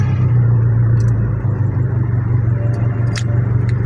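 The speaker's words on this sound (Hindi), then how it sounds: "ये आपके सामने AC ऑन करूँगा मैं" A Daewoo Racer car's air conditioning running with the engine on, a steady loud low hum and blower whoosh filling the cabin, with a few faint clicks near the end.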